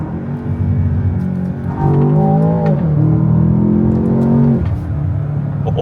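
A Land Rover Defender OCTA V8 engine revs up loudly and close, the pitch rising and falling through several throttle blips over a deep rumbling idle.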